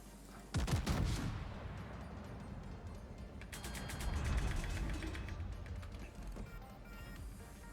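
An Italian Tier X battleship, the Ruggiero di Lauria, fires an armor-piercing gun salvo in World of Warships: a sudden heavy boom, then rumbling, with mechanical ratcheting and clanks from turret machinery.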